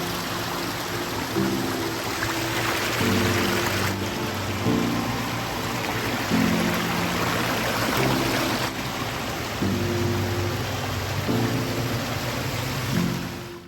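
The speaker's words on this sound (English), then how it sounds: "let's check out another beautiful aquascape ecosystem water feature." Steady rushing and trickling water from a pondless waterfall fills the scene continuously, a broad splashing wash with faint low tones drifting underneath.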